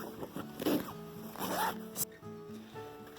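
A zipper opening on a sewn cushion cover is drawn open in a couple of quick rasping pulls, close and fairly quiet, with faint background hum and small handling noises.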